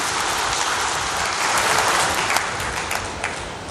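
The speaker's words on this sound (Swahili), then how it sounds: "Na katika hili naombeni tujipigie makofi tena mengi sana." Audience applause at a gathering in Tanzania: dense, steady clapping from a large crowd, loud and continuous throughout with no voices on top.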